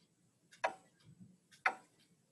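Two sharp ticks about one second apart mark a steady, plodding musical beat, crisp and close against a faint low background hum.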